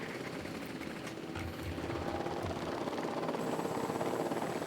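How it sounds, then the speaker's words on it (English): A helicopter flies in a dinosaur park video game, a steady whirring rotor drone with a low thudding pulse that holds at a moderate level throughout, with no talk over it. "Ooh, speedy helicopter."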